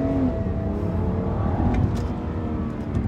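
A BMW 328i with the N52 engine and a three-stage intake manifold accelerates, a steady, loud engine drone rising gently in pitch over a few seconds from inside the car.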